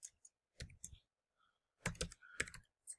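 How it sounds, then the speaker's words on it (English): Computer keyboard keys are tapped in short, quick clusters with brief pauses between them, close and fairly quiet, with no talking. "I'm going to type in sensor value"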